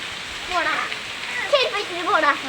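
Heavy rain pours down in a steady, broadband hiss, with a person talking over it throughout.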